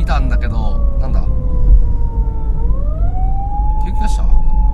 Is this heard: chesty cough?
no